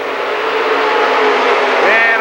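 Late model race cars on the speedway at Lernerville, running down the back stretch in a loud, sustained engine roar with a rising whine near the end.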